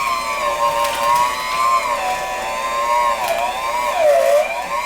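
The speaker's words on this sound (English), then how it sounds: "Probably asking this mixer to an awful lot to work this in" An electric mixer labours to beat a stiff dough for a homemade fig-cookie filling, giving a loud, continuous, close motor whine that wavers and dips in pitch as the beaters bog down.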